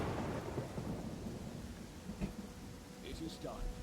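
Steady rain with a low rolling rumble of thunder in the video game Pathfinder: Kingmaker, continuous and fairly quiet, with faint higher game sounds near the end.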